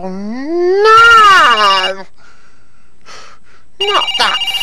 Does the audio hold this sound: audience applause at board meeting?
no